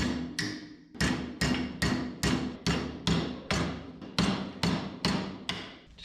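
A hammer strikes a welded metal joint on a 1999 Chevrolet S-10 pickup during an LS engine swap, about a dozen sharp, evenly spaced ringing blows close by, with no talking.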